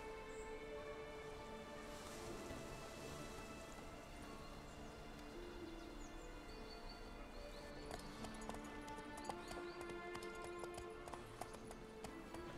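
Quiet hooves clip-clopping in The Witcher 3: Wild Hunt, a soft steady gait under a rain-like ambient bed, with brief tonal game sounds layered in later.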